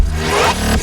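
A short whooshing turbo-flight effect from a Max Steel cartoon, a swelling engine-like rush lasting under a second, loud and close.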